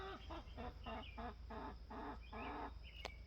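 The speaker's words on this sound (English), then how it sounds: "that chicken sounds like it's doing a burnout or something" A chicken clucks in a repeated, rhythmic series of loud, close calls, heard alone with steady background noise around a shop restoring a seized engine on a McCormick-Deering 10-20 tractor.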